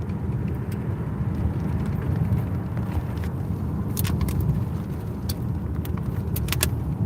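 A car drives along with a steady low engine and road rumble from inside the cabin, broken by a few light jingling clicks near the end, no talking.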